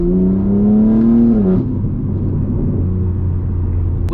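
A BMW G80 M3 in full two-wheel drive mode revs hard, its engine note climbing over about a second and a half before dropping back to a steady idling rumble close by.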